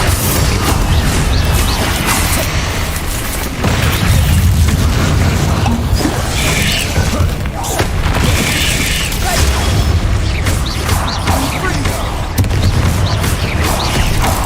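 Spell blasts from Bombarda and Confringo in the Hogwarts Legacy video game, a dense, loud run of booming explosions and crashing impacts layered over continuous game combat noise.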